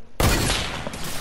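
A sudden burst of gunfire in a first-person shooter game, an abrupt loud crack followed by a short rattling decay, close and brief.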